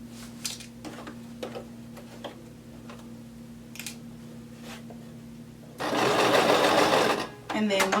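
A sewing machine stitches a pocket on a duster coat, quiet ticks and clicks giving way to a loud, fast burst of running stitches, then a brief pause and another burst.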